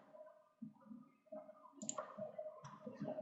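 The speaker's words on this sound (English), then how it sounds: "I'm good at clicking this button right here." Computer mouse button clicking during CAD design work in CATIA: a few sharp, close clicks over a steady background hum and tones, with no voices.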